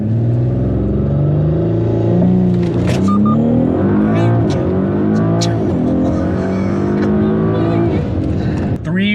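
A tuned turbocharged Audi carrying two people launches hard from a standstill and accelerates to 60 mph, its engine note climbing through gear changes, loud and close from inside the car, with people talking over it.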